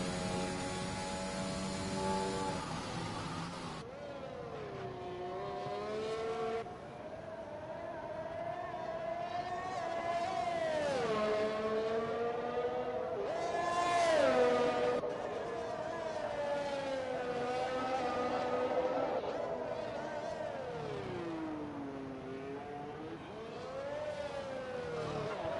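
Race car engines at Monaco in an esports racing game session, with a Ferrari among the field. High whining engines rise and fall in pitch through gear changes, continuous and fairly loud, with a commentator talking over them.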